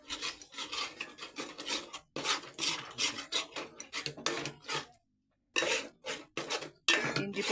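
Ginger garlic paste sizzles and scrapes in a pan with cinnamon, fennel and mint, a ladle rubbing the pan in quick rhythmic strokes with short pauses, close and fairly soft.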